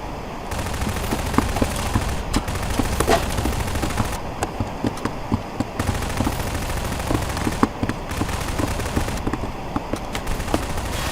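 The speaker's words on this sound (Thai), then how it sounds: "นี่คือการยิงปืนในละคร" Rapid bursts of Garry's Mod gunfire, automatic weapons rattling continuously with sharp cracks layered over a dense, steady roar of combat.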